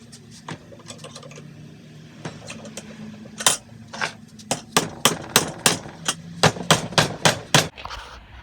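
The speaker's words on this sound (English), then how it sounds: "to get on the lip of it and hit it out with a hammer" Hammer blows driving a U-joint out of a Polaris RZR driveshaft, sharp metallic strikes, sparse at first then a steady run of a dozen or so close, loud hits in quick rhythm.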